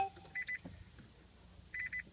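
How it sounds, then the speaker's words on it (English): A parked, switched-off Nissan Leaf sounds a warning chime, two quick groups of electronic beeps separated by a short pause, fairly faint and close, with low background hum between them. "You just can't stop it beeping at you."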